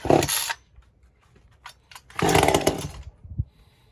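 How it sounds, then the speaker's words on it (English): Stihl 194T or 2511 clone chainsaw ripping through wood, two loud bursts of cutting with a quieter idling gap between them, close by. "we're going to do 2 rips on each saw"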